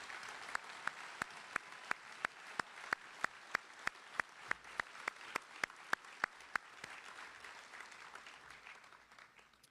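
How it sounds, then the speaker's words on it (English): An audience at a U.S. Army basic training graduation applauds drill sergeants with steady, evenly spaced claps in a rhythmic beat, carried over a soft wash of crowd noise for about ten seconds. "please join me in a round of applause to honor the tireless work of our drill sergeants"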